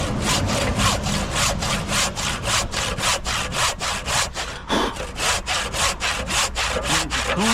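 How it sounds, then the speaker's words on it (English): A handsaw rips steadily through a piece of roof timber, its strokes loud, close and evenly rhythmic, with one brief hitch midway before the sawing resumes. "get the handsaw"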